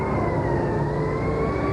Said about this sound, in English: Lee Harold Oswald is now in an ambulance speeding on his way to Dallas Parkland Hospital for emergency treatment